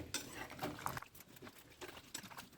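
A spoon stirs salted ash gourd curry in a pot, making soft, quiet clattering and scraping of metal against the vessel in an uneven, continuous rhythm.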